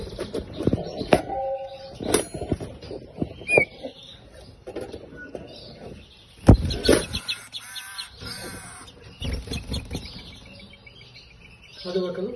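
Pet finches, a çüt placed beside a şakrak, give scattered chirps and sharp calls close by, in uneven bursts with quieter gaps between.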